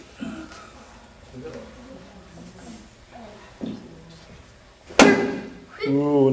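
A single sharp, loud impact as a half-power snap punch strikes a breaking target during tameshiwari breaking-technique practice, preceded by quiet talk and followed at once by a voice.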